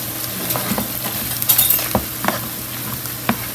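Julienned carrot strips hiss and sizzle as they hit butter with onions cooked down for ten minutes, a steady close frying crackle broken by a few clinks and stirring scrapes of a utensil in the pan.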